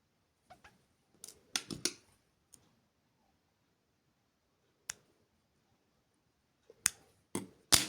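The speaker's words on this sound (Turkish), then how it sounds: "İpini kestim ve düzelttim." Small scissors snipping embroidery thread for Turkish needle lace: a few sharp, close metallic clicks in short clusters separated by quiet pauses, ending in a brisk run of snips.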